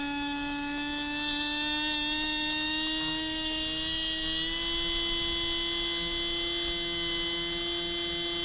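A Tamiya 540 electric motor spins steadily on 7.2V NiMH power, a loud sustained high-pitched whine with a constant tone and rich harmonics, alone and unbroken throughout.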